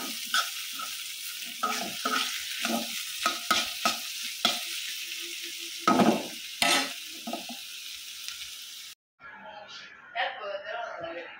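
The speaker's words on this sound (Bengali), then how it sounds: "আর এদিক দিয়ে করলা ভাজিটা করে নিতেছি" Bitter gourd frying in a pan while being stirred, with clattering spatula scrapes and sizzling throughout and someone talking over it.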